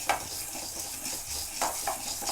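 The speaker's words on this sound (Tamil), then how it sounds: "நல்லா கலர் சேஞ்ச் ஆகுற வரைக்கும் துவரம்பருப்பையும் நம்ம ஃப்ரை பண்ணிக்கலாம்." Toor dal being dry-fried and stirred in a pan, with repeated scraping and rattling of the spoon against the metal over a soft sizzle, close up with no talking.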